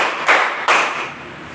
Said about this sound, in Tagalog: ang bigyan ninyo ang inyong sarili ng 5 malalakas na palakpak